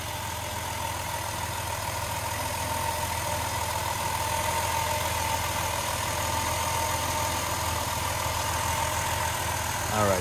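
A car engine idles steadily in its compartment, a smooth, even hum heard up close with no other sounds for about ten seconds.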